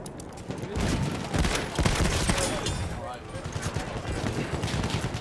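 Dense gunfire from a weapon in the multiplayer shooter Battlefield 1, rapid overlapping shots and bursts running continuously at close range amid a busy battlefield din, with voices mixed in.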